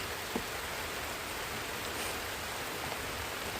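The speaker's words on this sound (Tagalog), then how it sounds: "sobrang lakas ng ulan na basta sobrang lakas ng ulan" Dense, steady rain pours continuously in the mountains, a loud broadband hiss of heavy downpour with no voices or pauses.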